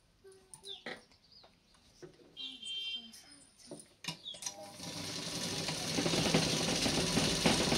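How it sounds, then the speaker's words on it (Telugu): Sewing machine stitching a pattu langa jacket, starting after scattered clicks and faint handling sounds, then a steady whirring run building over the last few seconds, with chicken-like clucks faintly in the background. "అలా మలుచుకొని మళ్ళీ ఒక కుట్టు వేసుకోవాలి"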